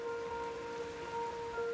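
Steady rain falls through an Australian eucalyptus forest on the east coast, a continuous soft patter and hiss from near to mid distance with a couple of faint sustained tones running underneath, and no voices.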